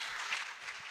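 A church congregation applauds in a short, steady burst of clapping, a dense wash of hands that holds for under a second without any voices over it.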